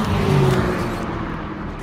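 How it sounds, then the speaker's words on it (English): McLaren 720S drag racing against a Ferrari 488 Pista and Ferrari F8 Tributo, a loud roaring engine surge that peaks early and then fades slightly as the car pulls away. "And the McLaren 720S wins the first race."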